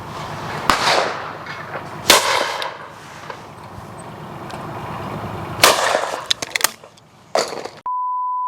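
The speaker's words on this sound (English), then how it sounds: "I'm going to shoot this pair" Shotgun blasts ring out outdoors at a clay target pair, with loud sharp reports spaced a few seconds apart and echoing tails, followed by a steady electronic beep at the end.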